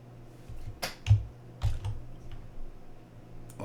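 Keys tapped on a computer keyboard to enter the Control and L shortcut in Nebulosity image software, a few soft clicks at about one and a half seconds, quiet and close with no talk.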